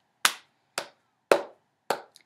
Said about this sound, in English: I need you to keep the beat for me by clapping your hands